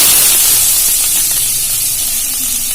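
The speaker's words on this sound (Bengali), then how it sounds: "পেঁয়াজটা ভেজে নিই।" Chopped onion fries in hot oil with a loud, dense, continuous hissing sizzle, close and steady throughout, with no voices.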